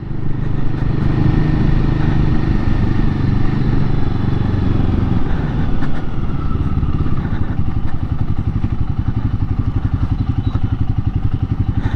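Royal Enfield motorcycle riding along a road, a loud, close, steady thumping engine drone with wind rumble throughout and no other prominent sounds.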